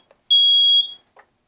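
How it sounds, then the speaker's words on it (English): A single sustained high-pitched alarm tone from a System Sensor D4120 smoke detector lasting about half a second, loud and close, with faint clicks before and after. "And from the smoke detector, it looks like this."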